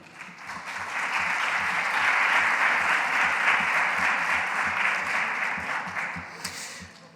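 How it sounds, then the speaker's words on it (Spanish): Audience applause at a talk on historical archives, swelling quickly from silence into full steady clapping, then tapering off near the end. "Un fuerte aplauso, por favor."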